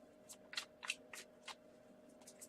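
Tarot cards being shuffled by hand, a series of soft, crisp riffling bursts in irregular rhythm, close and quiet against a faint steady hum.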